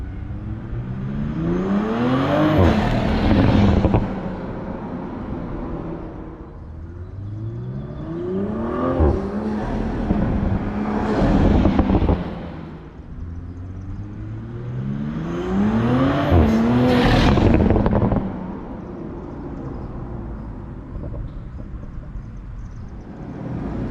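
Toyota Supra engine with an upgraded charge pipe revs hard three times, each rise climbing to a loud whine before dropping back to a lower idle between pulls, with no talking.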